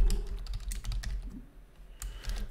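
Quick typing on a computer keyboard, a close run of light, irregular key clicks with a brief pause midway before the tapping resumes, no voices.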